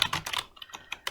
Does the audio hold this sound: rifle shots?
no